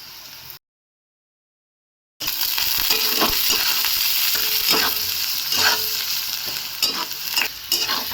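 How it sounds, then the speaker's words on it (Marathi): Onion fries with salt in a pan, sizzling steadily up close while a spoon stirs and scrapes against the metal; the sound cuts out briefly near the start before resuming. "आता आपला कांदा चांगला भाजलेला आहे बघा तांबूस रंगावर"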